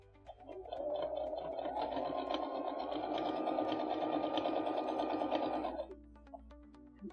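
A sewing machine stitches quilt prairie points in one steady, close whirring run of about five seconds. It starts and stops abruptly, with faint handling noises before and after.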